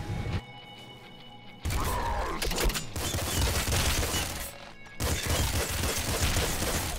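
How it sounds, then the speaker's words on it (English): Auto crossbow in Nuclear Throne firing in dense rapid bursts, a harsh clattering barrage mixed with game effects and music, loud and nearly continuous with short breaks. "left click is definitely auto crossbow"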